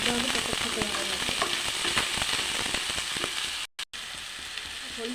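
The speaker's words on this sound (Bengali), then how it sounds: "এবার এটা ভালো করে ভাজতে হবে, একদম যত ভালো করে ভাজা হবে তত খেতে ভালো লাগবে" Pointed gourd (patol) fries in oil in a pan with a dense, continuous sizzle and occasional stirring scrapes, close and steady, briefly cutting out near the end.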